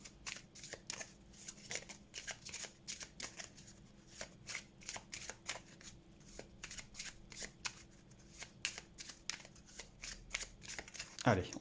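A deck of playing cards is shuffled during a board game of Auztralia, with repeated crisp riffling bursts in a steady rhythm over about eleven seconds, close and clear, and a voice speaking quietly in the background.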